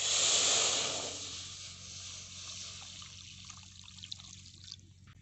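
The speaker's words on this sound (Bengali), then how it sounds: "এবারে কড়াইতে জল দিয়ে দেব।" Water pours into a wok on a lit stove with a brief hissing rush at the start, then fades to faint trickles and small drips over quiet background noise.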